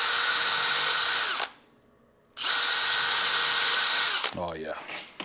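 Power drill with a Vortex bit drilling holes in a metal firebox door of a Hasty Bake 250 Pro grill, two loud sustained whining runs separated by a pause, then a voice speaks over fading noise.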